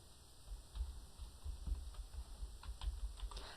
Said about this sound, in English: I can simply type that in and press Enter when I'm done.